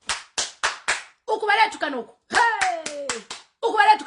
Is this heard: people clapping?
yes